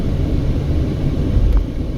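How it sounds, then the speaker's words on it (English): A tourist helicopter flies overhead in Las Vegas, heard as a steady, loud low rumble that holds for a couple of seconds with no voices over it. "Got the helicopter, tourist helicopters up in the air there"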